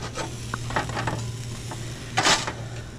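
A calzone sizzles and bubbles softly as it finishes cooking, with scattered crackles and light scraping, plus a louder hiss near the end over a low steady hum.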